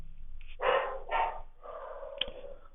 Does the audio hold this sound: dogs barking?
yes